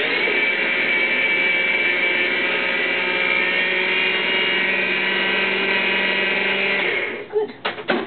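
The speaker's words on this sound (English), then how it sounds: "Now, I'm going to blend it again, sort of to a puree form." Blender puréeing green olives and celery into a smooth paste, a loud, steady motor whir that holds for about seven seconds, then cuts off into a few rattling knocks.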